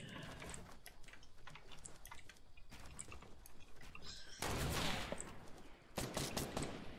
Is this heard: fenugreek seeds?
no